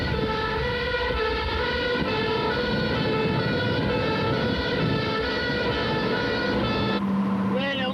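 A wailing 1997 Merseyside fire engine siren rises and falls over heavy engine rumble and road noise, loud and close, continuing steadily throughout.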